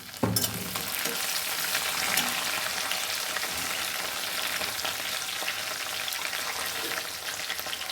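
Curry leaves dropped into hot oil in a pan for a tamarind vathal kuzhambu, setting off a loud burst of crackling sizzle that settles into steady, close frying hiss with occasional stirring.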